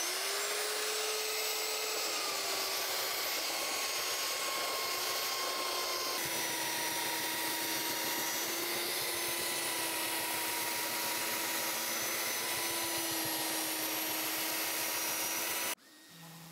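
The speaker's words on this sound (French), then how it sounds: "je vais commencer avec la ponceuse à ruban" Belt sander working a beech and cherry desk top, a steady loud broadband grinding drone with a humming motor tone, running continuously before cutting off abruptly near the end.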